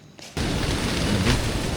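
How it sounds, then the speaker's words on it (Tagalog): Loud, steady roar of strong typhoon wind buffeting the microphone at a campsite, starting abruptly after a brief quieter moment and sustaining at full force. "Napakalakas yung hangin."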